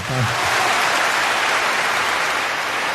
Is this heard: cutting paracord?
no